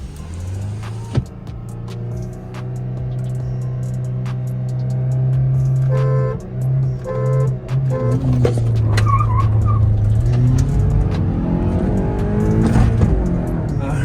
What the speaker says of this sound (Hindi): ऑक्टाविया निकल गई गाइस, 60 पे निकल गई एंड अब वो निकल रही है